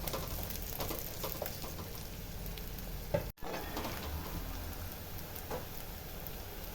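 Garlic and onion sizzle in oil while being sautéed for a fish curry, a steady soft frying crackle with occasional stirring, close and fairly quiet, with a brief dropout midway.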